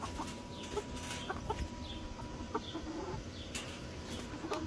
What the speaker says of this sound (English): They're Polish chickens.